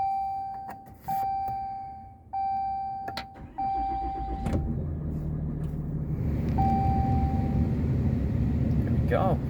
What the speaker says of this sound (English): I'm going to turn the vehicle on